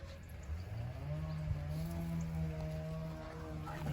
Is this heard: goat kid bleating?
yes